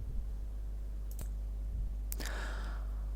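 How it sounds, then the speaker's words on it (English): A computer mouse clicks twice, faint and close, each a single sharp tick against a low steady hum, with no talking. "And then just click OK."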